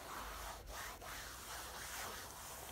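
A cloth rubs teak oil into faded vehicle plastic trim, giving a close, faint, continuous scrubbing hiss with brief pauses between strokes.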